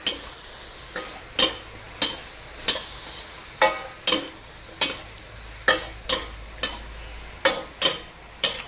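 Squid with vegetables being stir-fried in salted egg sauce in a pan: a steady series of sharp spatula scrapes and tosses, roughly one per second, over a soft sizzle, close and without talk.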